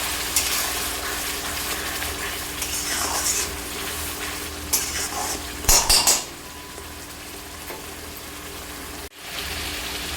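Tomatoes and spices frying in a pan for a jackfruit curry, a steady close sizzle with a few scraping stirs and clinks of a spoon against the pan, then a brief break before the sizzling resumes.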